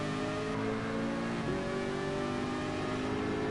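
Race cars, including a McLaren F1, in the Gran Turismo video game, with a steady, loud engine drone holding a high pitch and a slight pitch shift partway through as the cars race on.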